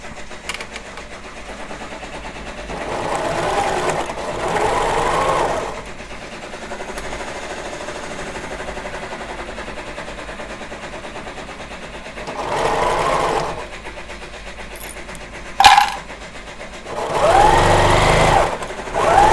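A sewing machine stitches embroidery onto a fleece scarf in several bursts of rapid, buzzing mechanical whirring separated by pauses, with a few sharp clicks near the end.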